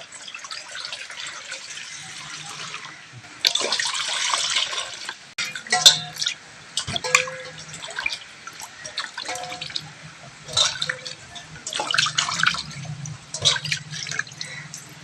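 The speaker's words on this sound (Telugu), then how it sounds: "కొబ్బరికాయకి పైన టెంక తీసేసానండి. శుభ్రంగా కడుక్కొని" Tap water runs and splashes over a coconut with its outer husk fibre removed as it is washed by hand in a village kitchen, steady running water with irregular louder splashes and drips, no talking.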